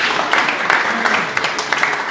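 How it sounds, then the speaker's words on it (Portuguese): Applause from a church congregation during a Bible study class, brisk and continuous clapping from many hands throughout, fairly loud and without voices over it. "Um aplauso para Jesus."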